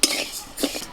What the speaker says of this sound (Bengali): মুগের ডালটাও শুকনো খোলায় নেড়ে নেবো।